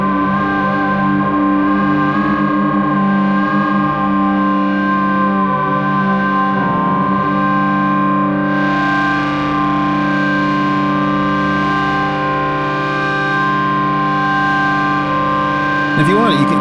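An Old Blood Noise Endeavors Beam Splitter pedal fed by a synth and drum machine pours out a dense, distorted wall of sound: thick sustained tones layered together that hold steady and loud throughout, swelling slightly near the end.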